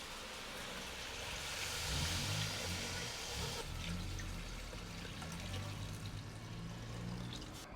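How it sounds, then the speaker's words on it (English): Water poured into a cooking pot of pelau with rice, black-eyed peas and carrot, a faint steady splashing trickle lasting several seconds, with low background murmurs. "So now I'll add some water and put all my ingredients, rice,"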